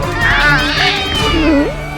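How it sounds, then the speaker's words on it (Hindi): A cat meows in a courtroom, its cries rising and falling over about two seconds, with a voice talking over and alongside it. "बिल्ली कहाँ है तुम्हारी? ये बिल्ली इधर।"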